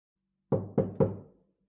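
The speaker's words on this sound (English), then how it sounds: "I was awoken by a loud knock on my door" Three loud knocks on a door in quick succession, sharp and close, each thud ringing briefly before fading into silence.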